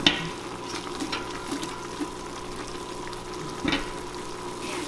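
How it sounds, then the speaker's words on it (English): Onions stirred into a pot for pork and sweet potato stew, a soft continuous sizzle with occasional scraping knocks of the spoon, close and without talking. "And then our onions. And again, you're just going to mix it up a bit."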